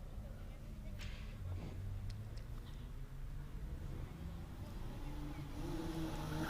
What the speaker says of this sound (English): Stephen Cooper next up in the Porsche 924 turbo.